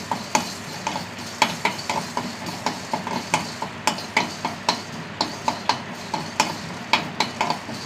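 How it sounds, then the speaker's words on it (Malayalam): Half a teaspoon of fenugreek seeds roasts in oil in a pan alongside chillies, with a rhythmic series of scraping stirs over a soft background sizzle. "ഉലുവയൊന്ന് വറുത്തെടുക്കുക."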